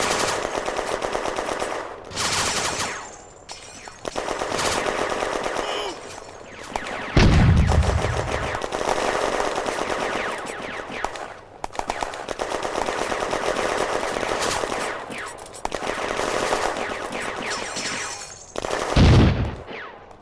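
Sustained machine gun fire in a World War II video game set in an industrial zone in May 1940, loud continuous bursts with brief gaps and a few deep booming impacts, no talk.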